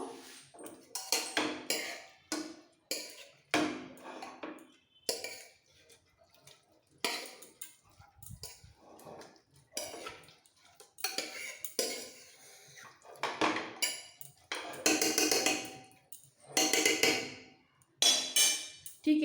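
A spoon scrapes and clinks against a pot while a handful of washed rice is mixed with half a spoon of ghee for matar aloo pulao, in irregular bursts with short pauses, close and without talk.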